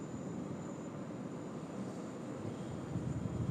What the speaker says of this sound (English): So here comes our aircraft.